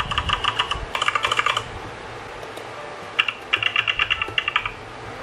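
Simulated keyboard typing from the Mac Vibes app: two quick flurries of crisp, clicky keystrokes separated by a short pause, close and moderately loud over a faint background hiss.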